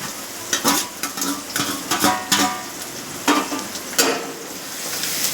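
Garlic cloves and a chopped green chili hit hot oil in a pan while cooking papad curry, a steady close sizzle broken by scraping spoon stirs and clinks throughout.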